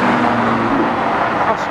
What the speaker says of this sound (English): Posh car going past there.